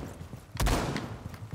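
A single loud blast from a pistol shotgun in a video game, a sharp close report that leaves a short ringing tail against a faint background.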